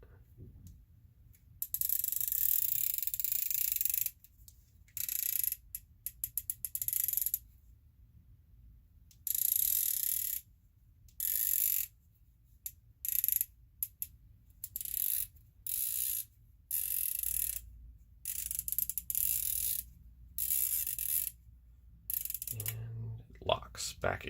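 Turret of a Leupold Mark 5HD 5-25x56 rifle scope being rotated, giving repeated short bursts of fine ratcheting clicks, close and crisp, with a voice speaking near the end.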